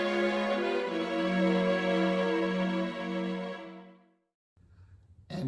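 Synthesized violins play sustained harmonic tones with steady loudness, the sections panned between left and right channels, before the music fades out and a brief low-pitched note enters near the end.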